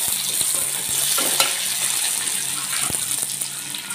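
Bay leaves and garam masala fry in hot oil in a pan for a chana dal dish, giving a steady, loud sizzle broken by a few sharp scrapes and clinks of stirring.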